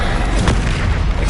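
Bombarda blasting spell going off in the video game Hogwarts Legacy, a dense continuous roar of booming, thudding blasts with a sharp burst near the middle, loud and close amid chaotic combat.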